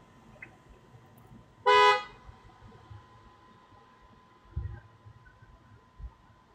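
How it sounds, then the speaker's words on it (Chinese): A car horn sounds once in a short, loud honk partway through, standing out over low street rumble and faint background noise, with no one talking. "在给我按喇叭吗？"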